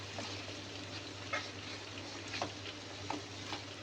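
Squash is stirred in a frying pan with soft, irregular scraping taps over a steady, low frying sizzle and a constant hum.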